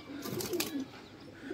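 A pigeon gives a short, soft cooing call at close range, a low burbling phrase lasting about a second amid faint rustling.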